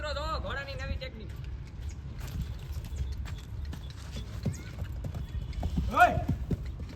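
Horse hooves clip-clop steadily at close range in an outdoor setting, a brief whinny-like call rising near the end, with background voices and ambient noise underneath.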